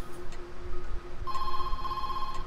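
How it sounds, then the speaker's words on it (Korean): A telephone rings in a horror video game: an electronic ring tone with bright, sustained tones that starts about halfway through and holds steadily over a low ambient background. "뭐야, 전화? 전화요?"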